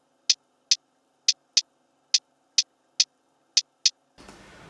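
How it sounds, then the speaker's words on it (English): A self-made hi-hat sample built in FL Studio plays alone as crisp, dry, bright ticks in an uneven rhythmic pattern, nine hits, clean and close, with a short noisy tail at the end. "a hi-hat I made myself for another beat, and alone it sounds like this"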